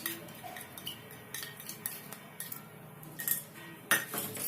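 A metal spoon stirs chopped garlic sautéing in a pan, producing quiet scraping and light clinks in irregular rhythm, close and soft.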